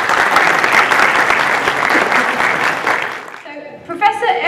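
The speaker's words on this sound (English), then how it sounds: "Please give him a round of applause." An audience at a talk on Islam and evolution applauds as a professor is welcomed onto the stage, a dense sustained clapping crowd that fades out near the end as a voice begins speaking.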